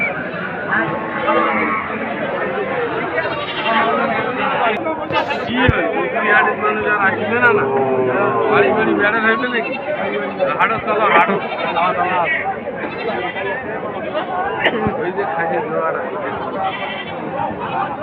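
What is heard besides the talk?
Ram goat bleating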